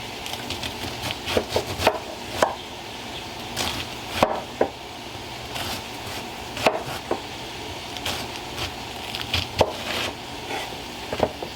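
A cabbage being chopped with a knife that isn't very sharp, giving a series of irregular crisp thuds on the cutting board with pauses between cuts, close and clear.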